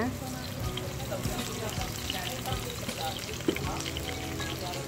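Bombay onions fry in a pan with a steady, crackling sizzle that runs the whole time, while voices talk over the cooking.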